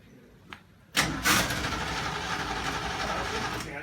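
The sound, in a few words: 1973 Triumph Stag car engine starting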